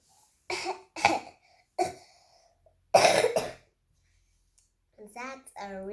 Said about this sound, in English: I have got a cough.